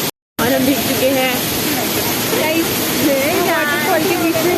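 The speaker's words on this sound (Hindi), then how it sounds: "वाटरफॉल के बीच में है।" Waterfall near McLeodganj pouring as a steady loud broadband roar that fills the whole clip, with people talking excitedly over it.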